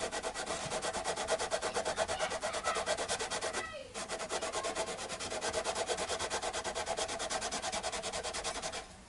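Rhythmic back-and-forth hand sanding, close and steady, with rapid scratchy strokes pausing briefly midway before resuming.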